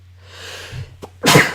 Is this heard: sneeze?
yes